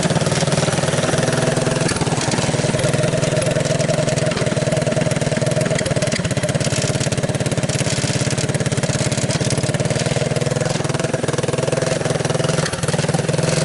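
A Honda ATC185S three-wheeler's single-cylinder engine runs steadily, a loud, continuous mid-pitched drone with a constant throb, close by and uninterrupted.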